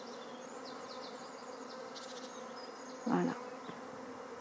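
A swarm of bees buzzes steadily as it flies and regroups with a larger swarm, a dense continuous drone with a brief louder burst near the end and a short spoken word.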